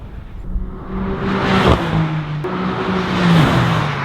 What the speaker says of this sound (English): Next up were some 0 to 100 mile per hour runs in both cars.